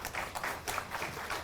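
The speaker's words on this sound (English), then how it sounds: "Give her a round of applause." An audience at a police department memorial service gives a short round of applause, soft and fairly distant, with steady scattered clapping throughout.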